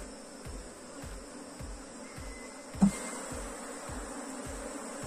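Honey bees from a small swarm drone in a soft, steady buzz at an open hive full of stored honeycomb, with faint low bumps repeating underneath and one brief knock midway.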